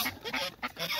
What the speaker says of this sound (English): when I did the muscovy ducks